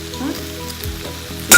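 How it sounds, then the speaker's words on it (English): Liquid from Lao-style chicken larb simmers down in a pan with a steady close sizzle and bubbling crackle, ending in a brief louder burst. "Now I'm gonna cook down the liquid"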